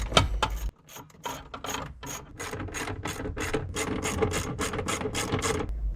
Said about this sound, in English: We then remove the harness that's connected to the circuit board, followed by the 3 bolts that are holding the whole light assembly in.